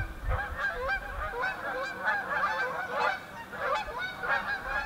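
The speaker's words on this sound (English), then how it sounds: "There goes the geese." A flock of geese honks continuously as it flies over a remote wooded property in Michigan's Upper Peninsula, many overlapping calls at a steady, moderately loud level.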